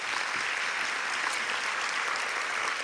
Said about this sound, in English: So let's give them another huge round of applause.